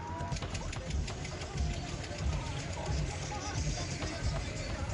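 Tractor engines rumble steadily at a farmers' tractor protest march against farm laws, a continuous low idling drone with crowd noise and voices mixed in.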